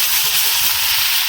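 Loud, steady hissing sizzle from sugar poured into frying tomatoes for a tomato pickle, a continuous bright close-up fizz with no breaks.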